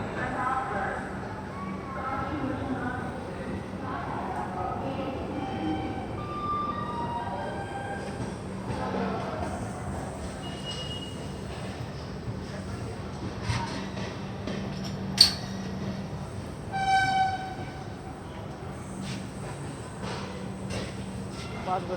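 The Kashi Vishwanath Express rolls along the Delhi–Banaras line via Moradabad and Bareilly, a steady rumble and rattle of the coaches running throughout, with a brief sharp clank partway through and people talking in the background.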